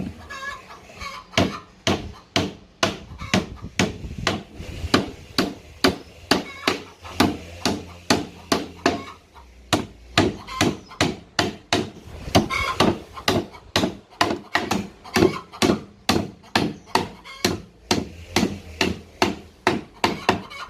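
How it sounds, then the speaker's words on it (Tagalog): Hammer blows drive nails into a wooden DIY kitchen organizer, loud, close, steady strikes in rhythmic runs with brief pauses, chickens faintly clucking in the background. "After mapako, maibaon na yung pako, pupukpukin niya ulit gamit yung ulo din ng pako para bumaon ng bahagya yung ulo ng pako"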